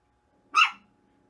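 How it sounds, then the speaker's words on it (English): A pet dog gives a single sharp bark, loud and close, standing alone in an otherwise quiet room. "my dog's pissed."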